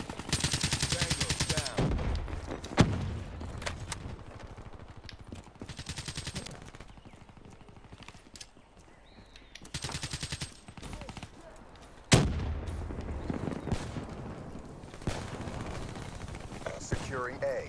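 Dense bursts of automatic gunfire in Black Ops 3 multiplayer, repeated rapid volleys with brief pauses between them, under a player's talk and in-game announcer callouts.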